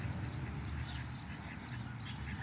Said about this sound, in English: You're not a Canadian honker. You're duckies.